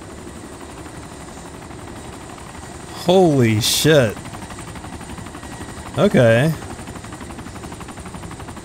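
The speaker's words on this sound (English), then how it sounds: "So now we got a helicopter." A helicopter in the Arma 2 DayZ game gives off a constant, even engine-and-rotor drone throughout, interrupted twice by a player's brief, loud exclamations.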